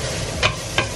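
Onion and garlic fry in a pan as the base for a soup, a steady close sizzle with two short scraping stirs breaking through.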